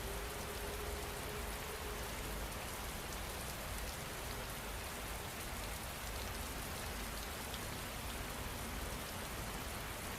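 Steady rain falls without a break, a dense even hiss of drops on surfaces that stays close and constant throughout.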